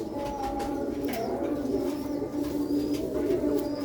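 Pure old Sialkoti black-beaked pigeons coo in low, continuous rolling calls, close by, with faint chirps from other birds overlapping in the background.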